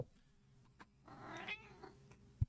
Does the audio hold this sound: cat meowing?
yes